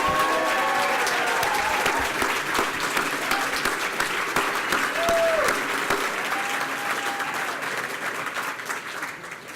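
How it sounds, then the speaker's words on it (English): A large audience at a benefit event for SEO Scholars San Francisco gives a dense, sustained round of clapping for an honoree, with a few voices faintly audible in the crowd. "let's give him a round of applause"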